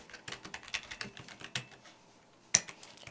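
Quiet, rapid keystrokes on a computer keyboard while filling in an address form, a steady patter of clicks that trails off into near silence before one sharp louder tap.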